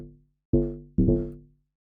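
Deep house bass line with sharp cuts: a short low note fades out, then two punchy bass hits follow a half second apart, each decaying quickly into silence.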